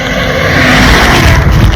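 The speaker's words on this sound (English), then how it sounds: "Here comes the chicken buses," A Guatemalan chicken bus passes close on a wet, muddy rural road, its loud broadband engine rumble and hiss of spraying water washing steadily over the microphone without voices.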